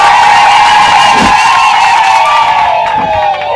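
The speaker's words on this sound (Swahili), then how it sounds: "mheshimiwa mwenyekiti wa Kibirizi Mrisho Mwamba, tumpige makofi." A crowd at a public gathering in Kigoma, Tanzania, cheers and applauds loudly for a village chairman. The roar stays dense and steady for the whole stretch before easing slightly at the end.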